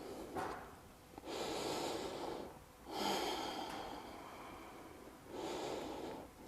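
Slow, deep breaths during vinyasa yoga practice, three long airy inhale-exhale cycles heard up close with no talking.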